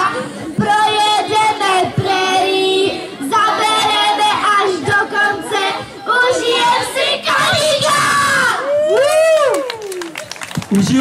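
A group of children at a summer camp loudly shouts a rhythmic chant together, sustained and close, with a few drawn-out yells near the end.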